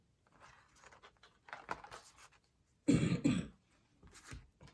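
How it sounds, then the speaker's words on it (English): A few harsh coughs and throat-clearing bursts, close and fairly loud, separated by short pauses, with one strong cough fit near the middle. "Sorry about my coughing, you guys."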